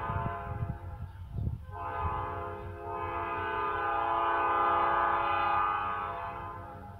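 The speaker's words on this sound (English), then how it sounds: "Hold on, stupid trains." Trains passing nearby, a rumbling rail clatter that swells into a long, loud sustained horn blast holding steady for several seconds before easing off.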